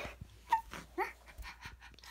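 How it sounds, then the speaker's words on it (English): A dog at a pet adoption event lets out a few short, faint whimpers between quick panting breaths, close by and fairly quiet, with no talking. "I feel bad for that other dog."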